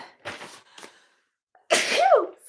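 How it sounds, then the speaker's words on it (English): A single loud sneeze bursts out after a few soft, breathy sounds, close and clear, followed by a brief pause. "Oh, sneeze."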